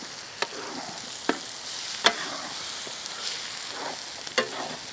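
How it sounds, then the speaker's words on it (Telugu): Onion pieces and green chillies fry in a pan, a steady soft sizzle broken by several sharp spatula clinks and scrapes at irregular intervals, close by with no talking. "ఉల్లిపాయ ముక్కలు ఇంకా పచ్చిమిర్చి చక్కగా వేగాక"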